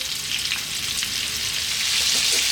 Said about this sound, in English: Medium heat, we're going to fry this for about 4 to 5 minutes.